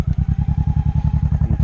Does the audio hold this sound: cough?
no